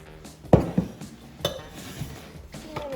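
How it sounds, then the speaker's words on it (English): A food processor bowl is set in place while making homemade flour tortilla dough, giving a sharp hard clunk followed by a few lighter clinks and rattles, close and fairly loud, with no talking. "So I put that into the food processor bowl."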